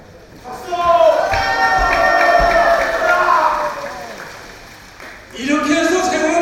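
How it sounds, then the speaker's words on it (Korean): Rally crowd at a Korean patriotic flag gathering in Sydney cheering and clapping, a loud swelling roar with shouts that dips briefly before rising again, while a voice carries over it. "박수!"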